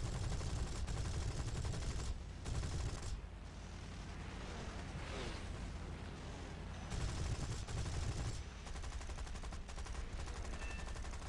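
Aircraft guns on a Boomerang Mk I fire in long, dense bursts in the War Thunder flight game, a loud continuous rattling roar over constant engine noise, broken by short gaps between volleys.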